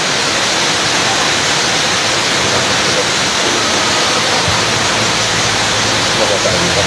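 Baguio Village Falls pours down as a loud, unbroken roar of rushing water, heard up close and steady from start to finish.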